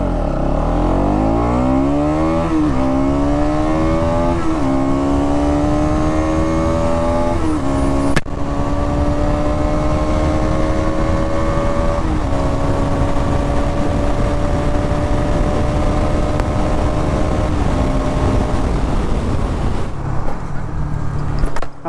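A 2023 Bajaj NS200 200cc motorcycle accelerates hard and climbs through several gears, its engine note rising and dropping with each shift in a loud, continuous, close-up run with no talking.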